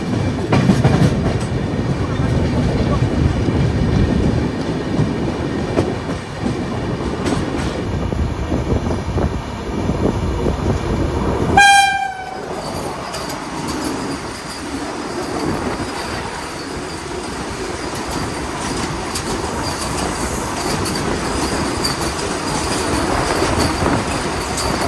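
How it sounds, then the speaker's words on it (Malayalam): A Vande Bharat express train bound for Mumbai Central from Gandhinagar Capital roars through a station near Ahmedabad, with loud continuous rolling rumble, wheel clatter and a sharp horn blast midway. "ഗാന്ധിനഗർ ക്യാപിറ്റൽ എന്ന സ്റ്റേഷനിൽ നിന്ന് മുംബൈ സെൻട്രൽ വരെ പോകുന്ന വന്ദേ ഭാരതാണ് ഇപ്പോൾ പോയത്."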